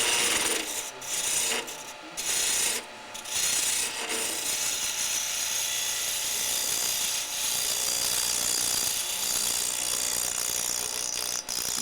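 Carving gouge cutting into wood for a carved ornament, a continuous close scraping and rasping with brief pauses between strokes, steady and fairly loud.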